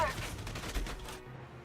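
A tank's guns rattle off in a video game, a rapid burst of repeated shots lasting about a second before cutting to quiet engine hum, with a voice speaking over it.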